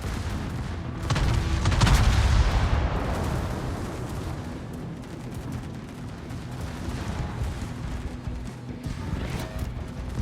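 Tashkent destroyer launching torpedoes during a naval video game battle, heavy booming game audio with a loud burst near the start settling into a continuous rumbling mix of distant gunfire and explosions.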